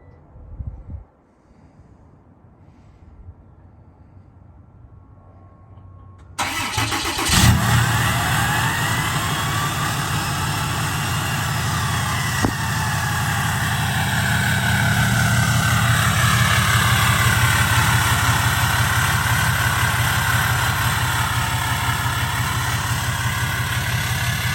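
A 2017 Ram 2500 with the 6.7 Cummins diesel, fitted with a Fleece Cheetah turbo and EFI Live tuning, cranks and fires on a cold start, then settles into a loud, steady, rough idle with a faint turbo whistle.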